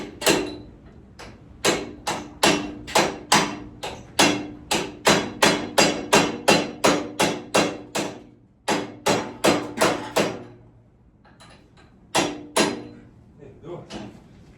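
Steady, forceful hammer blows strike a still-hot metal tractor arm, ringing sharply in a quick regular rhythm of about two hits per second, close and loud, with a brief pause before a final few strikes.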